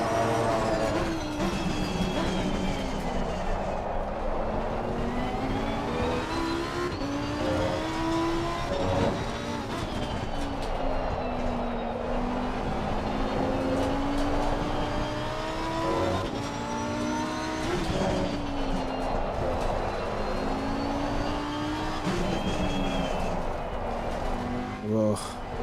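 Race car engine in a racing video game at Barcelona, droning and revving steadily throughout with rising and falling pitch sweeps through gear changes, loud and continuous with a voice talking over it.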